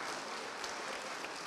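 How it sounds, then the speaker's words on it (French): An audience claps for a guest lecturer at a museum talk, a dense, steady wash of applause filling the short moment at moderate distance, with no voices over it. "Voilà, on peut l'applaudir."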